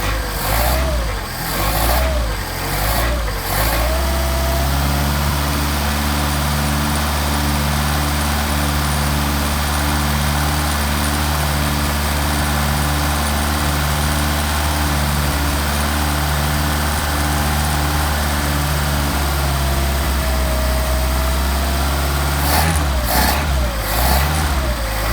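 A Mercedes 190SL engine with Solex carburetors idles as it warms up, a loud steady low rumble with brief revs at the start and end.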